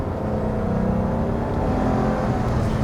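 An early-1980s BMW M car's engine drones steadily while driving, a loud, close, sustained hum and whir with no voices over it.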